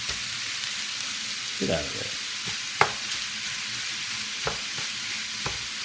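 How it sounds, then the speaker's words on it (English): A meat and vegetable mix for baked spaghetti sautés in a pan with a steady close sizzle, broken by a few scraping stirs and sharp taps of a utensil, while a voice briefly speaks. "We'll let this saute down for a little bit."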